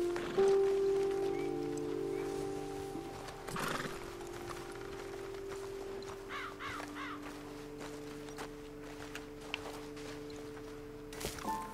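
Horses in the Red Dead Redemption 2 video game, with a clear clip-clop of hooves and a whinny near the start, then fainter hoof steps and calls over a quiet outdoor ambience with distant birds.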